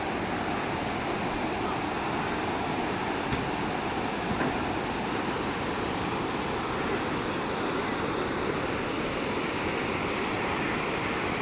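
A mountain river rushes below the Mughal Road in Jammu and Kashmir, a steady, broad and loud roar of flowing water with no voices.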